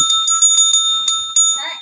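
A hand bell is rung close by in a quick run of about eight bright, clear strikes, then its ringing tone fades out.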